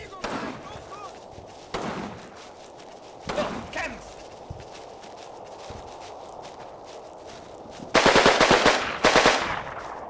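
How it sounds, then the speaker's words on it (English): Machine gun fire in the video game Combat Mission Final Blitzkrieg, with short bursts near the start and a louder, rapid burst near the end over a steady battlefield background. "These guys now have 2 machine guns, which will eat through a lot of ammo"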